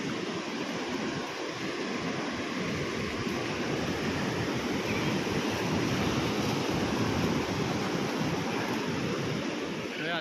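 Strong ocean waves at Sabang, Palawan roll and crash steadily for the whole stretch, loud and close, with wind noise buffeting the microphone throughout.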